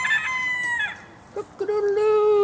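A red-headed rooster perched on a wall crows close by, a loud drawn-out call breaking into a second rising phrase.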